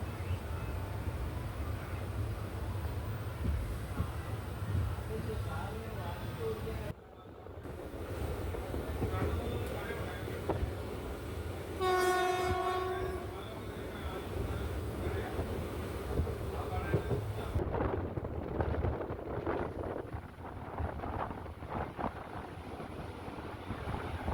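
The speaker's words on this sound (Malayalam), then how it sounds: "കരുവാറ്റയിൽ നിന്നും ട്രെയിൻ എടുത്തു" A Kollam–Alappuzha passenger train pulls out of Karuvatta station, a steady rumbling roll with wind buffeting the microphone and a brief ringing tone partway through, heard from on board.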